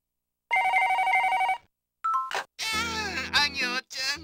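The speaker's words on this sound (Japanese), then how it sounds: "電話が鳴ってるようだ。" A telephone rings in the Dreamcast detective game Tantei Shinshi DASH!, one steady electronic ringing burst, followed after a short gap by other bright game tones and chirps.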